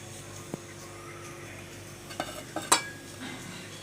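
A spoon stirs and mixes paneer tikka marinade in a bowl, soft quiet scraping with a few sharp clinks against the bowl toward the end, close and faint.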